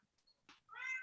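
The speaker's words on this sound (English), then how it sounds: "there is a cat that has a question." A house cat meows during an online video call, a quiet chirp followed by one longer, rising meow, close to the microphone with no talking over it.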